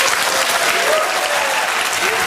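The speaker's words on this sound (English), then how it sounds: "Listen to that. Round of applause." A studio audience breaks into a loud, dense round of applause on a radio phone-in show, many hands clapping steadily and close throughout.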